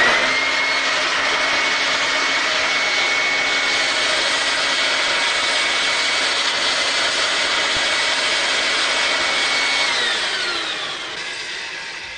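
A vacuum cleaner's built-in fan near the motor runs steadily with a loud, sustained whirring roar, its pitch holding constant before slowly winding down near the end.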